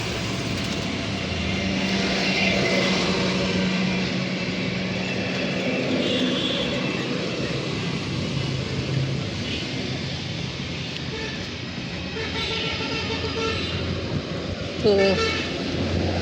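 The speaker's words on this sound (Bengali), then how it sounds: "এটা হলো হাইওয়ে" Highway traffic rumbles past steadily, a broad continuous roar of passing vehicles with a brief horn-like toot near the end, while someone speaks briefly over it.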